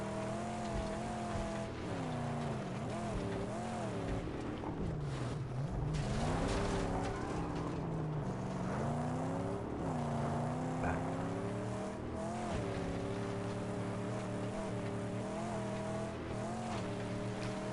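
A vehicle in Mad Max heard from inside the cabin, its engine droning and revving up and down steadily while tires squeal and skid at moments, a continuous moderately loud drive with no voices.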